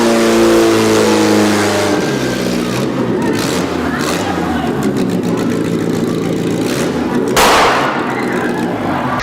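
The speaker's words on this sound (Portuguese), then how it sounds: "ouviram aí o carro passando?" A car passes outside, a loud engine rumble that swells and shifts in pitch over several seconds, with a sharp thump near the end.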